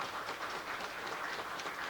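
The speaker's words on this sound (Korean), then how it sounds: "뒤로 돌아서 인사 축하의 박수를 보내주시기 바랍니다." A church congregation applauds in celebration at a Sunday morning service in Mokpo, a dense, even wash of clapping from many hands, steady and moderately distant, with no voices.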